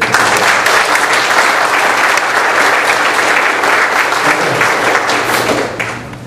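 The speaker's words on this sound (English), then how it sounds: "Let's give, again, a warm welcome applause for all of our candidates for this." Loud, steady applause from an audience welcoming candidates at a chamber of commerce candidate forum, continuous clapping for about six seconds before tapering off.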